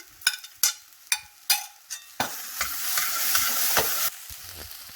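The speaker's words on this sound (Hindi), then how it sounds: "सब्जियां सौते करने की एक वजह यह है कि उसमें से सारा पानी हमारा निकल जाएगा" Chopped vegetables and tomato are sautéed in a pan, first with several sharp stirring scrapes and clatters, then a louder steady sizzle as food hits the hot oil, followed by more stirring.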